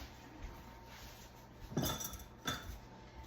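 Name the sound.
mixing cornbread batter with buttermilk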